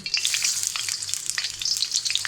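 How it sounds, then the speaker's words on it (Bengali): Chopped onion frying in hot oil with a dried chilli in a pan, a close, bright crackling sizzle with light stirring clicks, alone without speech. "পেঁয়াজটাকে ভেজে নেব"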